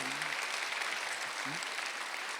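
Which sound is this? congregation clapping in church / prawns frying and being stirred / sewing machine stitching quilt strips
congregation clapping in church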